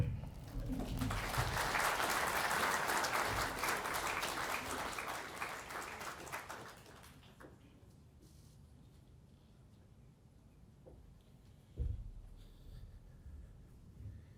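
A crowd at a Neighbourhood Watch Victoria 40th anniversary celebration at the RACV City Club applauds after a speech, dense clapping for about seven seconds that then thins out into quiet room noise with a single thump near the end.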